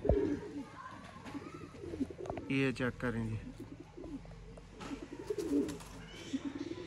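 Sialkoti Ali pigeons coo repeatedly, with a loud burst of throaty cooing near the middle and softer coos around it, under a man's speech and background murmur.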